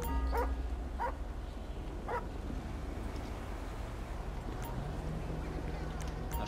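A police dog in the video game GTA 5 with the LSPDFR mod gives a few short, sharp barks and yips over a steady low background rumble, with faint sounds between.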